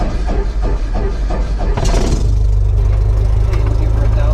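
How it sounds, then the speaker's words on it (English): A light aircraft's piston engine cranks over with a few rhythmic starter pulses, then catches and settles into a loud, steady, rumbling idle close by. "Ignition switch, and here we go to start the engine."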